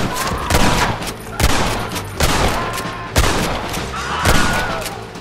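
A gunfight in Red Dead Redemption, with loud repeated gunshots cracking from several guns at irregular intervals, echoing close up with no talk.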